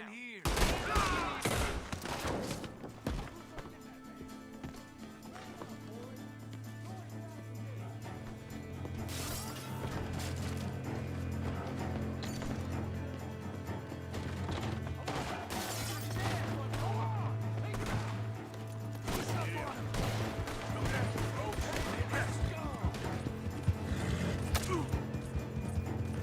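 Gunfire from a Red Dead Redemption 2 gun, a dense volley of sharp shots and crashes over a steady low game soundtrack drone, loud and continuous across the stretch.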